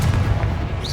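The Confringo fire blast spell goes off in Hogwarts Legacy, a single loud, low, booming burst that fills the whole moment with a rumbling, explosive body.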